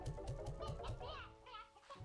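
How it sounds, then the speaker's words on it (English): Hens clucking in a video game labyrinth, a run of short rhythmic clucks close by, fairly quiet, with a few higher calls following. "The sheer amount of, like, hens and shit over here is kind of crazy"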